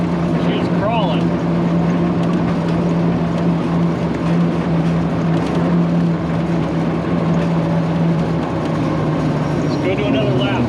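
A 1929 Ford Model A (AA), running after decades of sitting, crawls along slowly with a steady low engine drone close by and wind buffeting the microphone throughout.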